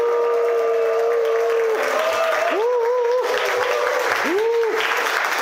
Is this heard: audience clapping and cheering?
yes